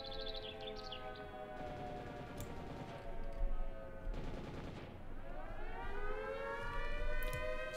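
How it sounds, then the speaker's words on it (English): A wailing siren rises and falls as ambient gunfire bursts sound in the distance, a quiet mix from the True Stalker mod of the S.T.A.L.K.E.R. video game. "And that was just ambient gunfire."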